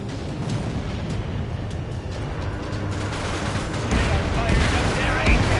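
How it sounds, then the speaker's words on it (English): In the video game Angels to Aces, an airstrike hits a dockyard base with dense, loud gunfire and explosions. The bursts crackle and boom almost without pause, rumbling heavily throughout. "Dockyard base taking damage from airstrike."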